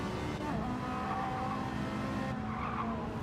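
Race car in Gran Turismo 7, its engine note blending an F1 car and a road car, holds a steady loud drone with tire squeal and skidding throughout, no talking.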